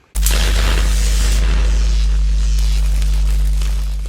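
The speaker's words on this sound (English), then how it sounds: "sorry about the noise, it's really windy out there today" Strong wind buffeting a microphone outdoors beside an Indian FTR 1200 motorcycle, a sudden loud low rumble and roar that starts abruptly and stays steady, with no talking.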